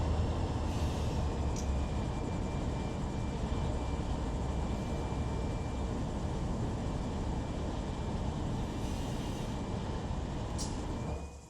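A freight train in Run 8 Train Simulator rumbles past steadily near Barstow, with a continuous low roar, wheel clatter and faint squeals, close and sustained before fading at the end.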